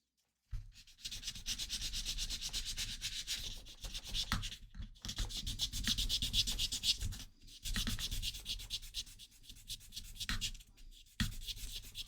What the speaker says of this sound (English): I'm sanding the shit out of this thing.